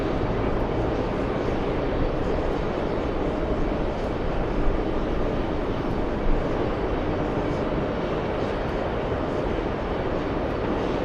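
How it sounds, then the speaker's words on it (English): A Boeing 747-400 airliner arriving from Anchorage at JFK airport, heard as a steady, broad jet roar that holds evenly throughout, moderately loud and continuous with no voices over it. "we have a 747 flying in from Anchorage. A 747-400. Big one, number 2 to arrive"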